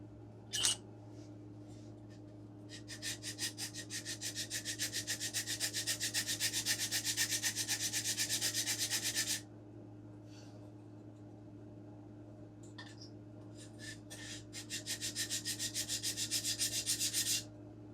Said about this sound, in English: I want to go and sand this just a little.